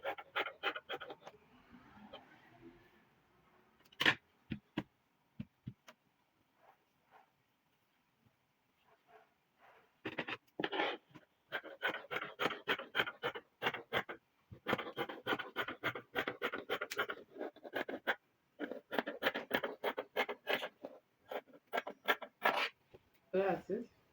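Scissors snipping through dress jacket fabric on a cutting table, a close series of sharp crunchy cuts in irregular runs with pauses, plus a brief voice at the start.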